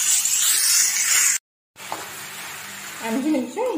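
Chicken being stir-fried and tossed in masala for a green hariyali chicken curry, giving a steady close sizzle and hiss that breaks off briefly, then returns quieter with faint clinks and a voice under it.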